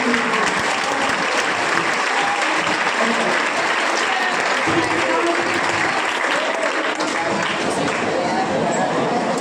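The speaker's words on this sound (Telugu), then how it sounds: "అందరూ ఒకసారి లేచి నిలబడి చప్పట్లతో వాళ్ళకు థ్యాంక్స్ చెప్తాం" An audience at a study seminar gives sustained, dense applause, steady and loud from start to finish with no break.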